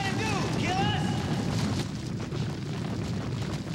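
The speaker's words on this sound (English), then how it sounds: "Sonny, we know there was an explosion." A deep, rumbling explosion in a soap-opera drama scene, a heavy low boom with a high whistling, descending streak over it early on, then a rolling rumble that slowly fades.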